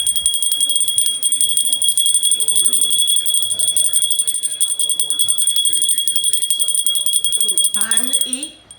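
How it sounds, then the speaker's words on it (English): A dinner bell rings continuously and loudly at home for a family meal, its bright sustained tone running throughout while people talk underneath, fading at the end. "she just rang the dinner bell and we knew it was time to eat"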